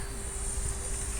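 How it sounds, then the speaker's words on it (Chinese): An Arrows Marlin 64mm EDF model jet passes, a thin, steady ducted-fan whine held at a moderate distance for a brief moment. "飞机飞过来。"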